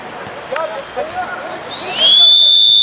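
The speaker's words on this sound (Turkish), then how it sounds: "Hakemin düdüğü bekleniyor." A referee's whistle blows one sustained shrill blast to start an amateur football match in İzmir's Golden League, loud and clear after a stretch of commentary and crowd noise.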